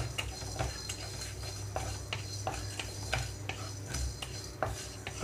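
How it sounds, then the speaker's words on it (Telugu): Cumin seeds and black peppercorns dry roasting without oil in a thick pan, stirred with a metal spoon that gives repeated sharp scraping clinks against the pan over a low steady hiss. "ఆయిల్ లేకుండా జీలకర్ర కొంచెం, అలాగే మిరియాలు వేయించుకుంటున్నానండి"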